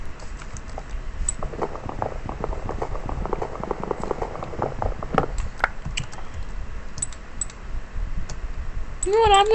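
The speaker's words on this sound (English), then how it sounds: "So much intense clicking." Rapid, dense clicking of a mouse and computer keyboard during Minecraft play, close and steady for most of the stretch, with a voice speaking briefly near the end.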